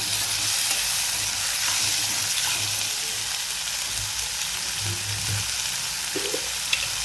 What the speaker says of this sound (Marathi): आता आपण जो टोमॅटो घेतलेला आहे तो सुद्धा आपण याच्यामध्ये घालून घेणार आहोत सगळं मिक्स करायचं आपल्याला